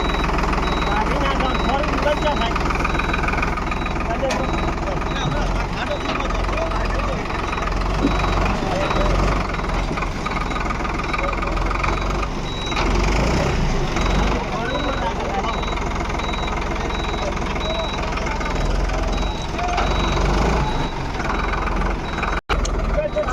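A 50 hp tractor engine runs with a constant heavy rumble throughout, loud and close, while the tractor is stuck and cannot pull free, with voices talking faintly underneath.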